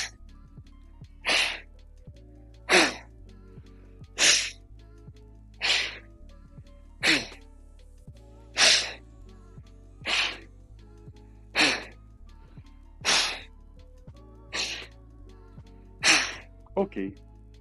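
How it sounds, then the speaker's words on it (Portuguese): Forceful breathing exercise in yoga, a series of about a dozen sharp, hard exhalations through the nose, evenly spaced roughly every second and a half, close and loud against a quiet background. "Na hora de soltar o ar, é soltar o ar com força."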